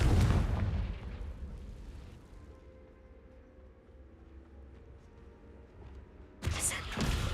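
Fiery spell blasts from the Confringo charm in Hogwarts Legacy: a loud explosive burst at the start, a quieter rumbling stretch, then another sharp blast near the end.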